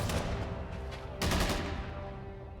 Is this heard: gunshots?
yes